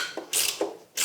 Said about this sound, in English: Those are quite stiff to do, so I use my little ratchet to help me do that.